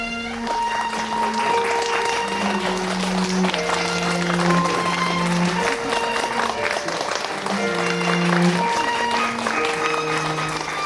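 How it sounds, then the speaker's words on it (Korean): Wedding hall applause and cheering as the bride enters, a steady dense wash of clapping and crowd noise with music playing throughout at constant loudness. "우리 신랑이 입장할 때보다 더 큰 환호와 박수 보내주시면 감사하겠습니다."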